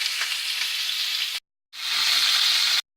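A steak sizzles loudly in a hot pan in two continuous stretches, split by a brief silent gap, with the bright hiss of frying fat up close.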